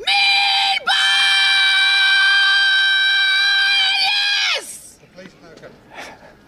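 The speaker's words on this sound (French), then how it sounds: "qui hurle en pleine montagne aux États-Unis" A person lets out one long, loud, sustained scream outdoors in the mountains in the United States, holding a steady high pitch for about four seconds before breaking off, followed by faint background voices.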